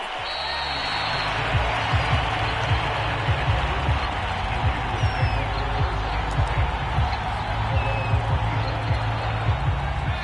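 A steady, loud crowd roar from a PS4 American football video game fills the scene after a touchdown and kickoff, with the Las Vegas offense taking the field; the noise stays constant throughout, with a commentator's voice faintly beneath it.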